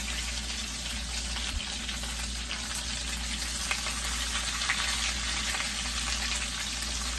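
Hamburger steak sizzling in a frying pan just after being flipped, a constant close hiss and spatter with a low hum underneath, unbroken for several seconds.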